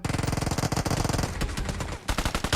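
Rapid automatic fire from a machine gun in an online shooter game, a dense stream of loud, close bursts that briefly thins in the middle before resuming at full intensity.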